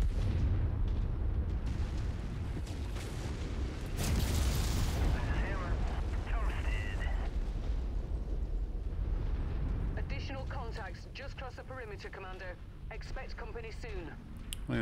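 Missiles firing and exploding in a video game, with bursts of booming blasts and rumbling impacts layered over a dense game soundscape, while voices talk over the later part.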